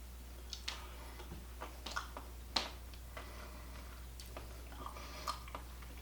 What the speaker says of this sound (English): You may hear it crunching because I'm right here close to the camera.